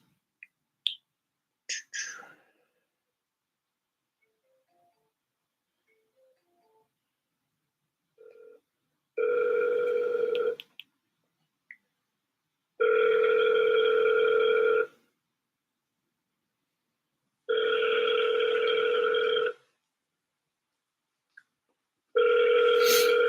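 An outgoing call rings out through a mobile phone app while cold calling real estate agents: four long, steady ringback tones separated by silent gaps, clear and close, with a few small clicks before them and no talking.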